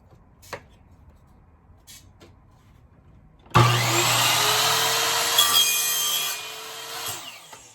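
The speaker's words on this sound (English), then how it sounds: "the last method is the miter saw. So we're gonna use our 3/4 inch pipe for this cut." A miter saw bites through 3/4 inch PVC pipe in one burst, its sudden loud whine and rasping cut holding for about three seconds before the blade winds down. A few faint knocks come before it.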